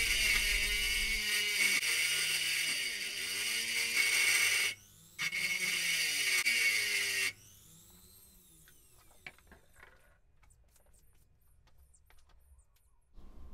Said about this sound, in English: you can also use larger tools which you would uh, use in an air die grinder and it's easily got enough power. Here's that large carbide burr